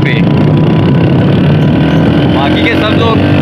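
A motorbike engine drones loud and steady while riding near Sakesar Peak in Soon Valley, Khushab, with wind noise and a person talking over it throughout.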